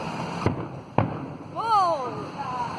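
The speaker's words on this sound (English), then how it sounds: "World Championship Fireworks," Fireworks at a world fireworks championship display in Blackpool, with two sharp bursts followed by a rising whistling shell, heard at a distance over crowd murmur.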